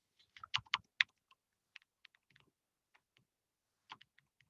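Keys on a computer keyboard are tapped while writing a note: a quick cluster of clicks, then sparse, scattered taps with pauses, close and fairly quiet in an otherwise silent room.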